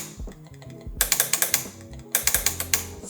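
Sharp mechanical clicks from aftermarket magnetic paddle shifters on an Audi R8, fired in quick bursts of snappy taps with brief pauses in between, close up and crisp, with no talking.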